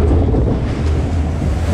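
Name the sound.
log flume ride drop and water splash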